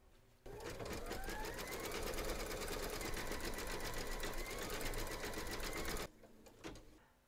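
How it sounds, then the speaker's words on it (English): Embroidery sewing machine running a quilting stitch in gold thread on an in-the-hoop teddy and unicorn bag, a loud, steady, rapid mechanical whirr that holds for about six seconds, then stops abruptly. "Making sure that you've got your thread colour for the quilting of the horn loaded into your machine, you're now going to stitch round number 7"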